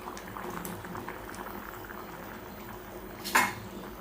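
A pot of black chickpea curry bubbles and simmers steadily at close range, with a brief louder splash or sizzle near the end.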